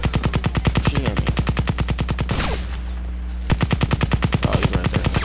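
Automatic gunfire from the Crysis video game on Xbox 360 rattles in loud, rapid, evenly spaced bursts. It breaks off briefly midway, then resumes at the same relentless pace.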